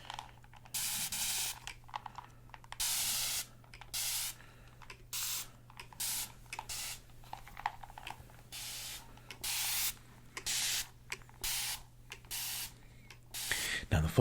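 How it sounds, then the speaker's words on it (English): A spray bottle spits short bursts of water mist over and over in a quick, irregular rhythm, each spritz close and crisp against a quiet, faintly humming background. "they're just spraying your hair with water in the beginning"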